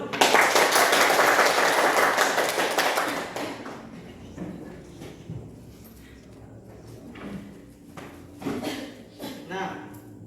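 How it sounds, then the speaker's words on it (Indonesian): Clapping from a classroom group during a micro-teaching lesson, a dense burst of claps for the first few seconds that then thins out into scattered taps and room noise. "Tepuk tangan dulu."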